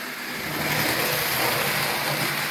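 An American Flyer 545 pre-war toy train set from 1940 runs steadily, giving a continuous close mechanical whirring hum that holds even and unbroken.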